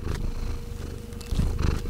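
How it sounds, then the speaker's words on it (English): A cat purrs right up against the microphone, a steady, rumbling, rhythmic purr that swells louder toward the end, with no talking. "You want to purr into the microphone for the people?"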